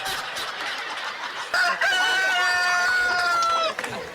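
A hen gives a sound-effect call: after a quiet, murmuring start, one loud, drawn-out clucking cry rings out close and clear, then cuts off sharply.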